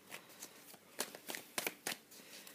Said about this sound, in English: Your cards don't want to shuffle.